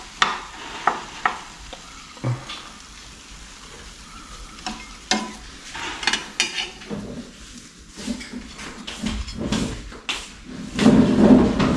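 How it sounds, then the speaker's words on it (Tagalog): Eggs fry and sizzle in a pan, stirred with clinks of utensil against the pan at close range, the sounds coming in irregular bursts with no talk. "Pritong itlog."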